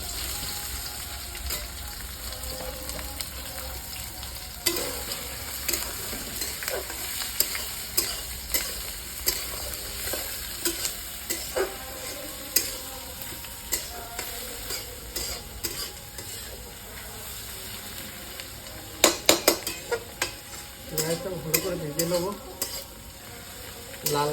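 Chopped onions fry in hot oil with cinnamon, green cardamom, cloves and bay leaves for a restaurant-style mixed vegetable dish, a steady sizzle broken by repeated clinks and scrapes of a spoon stirring the pan.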